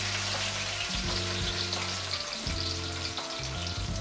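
Blended sambal chili paste fries in hot oil, a loud, dense sizzle and crackle that holds steady throughout, with faint stirring clatter underneath.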